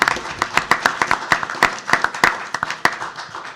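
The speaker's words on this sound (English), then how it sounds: "if y'all would join me with a round of applause" A city council meeting audience claps for a high school Teacher of the Year, scattered individual claps with distinct sharp hits over a thinner bed of applause, fairly close and uneven.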